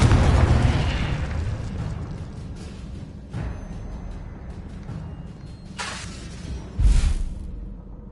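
The Confringo blasting spell in the video game Hogwarts Legacy, a loud booming explosion that rumbles off, followed by a couple of further bursts and whooshes.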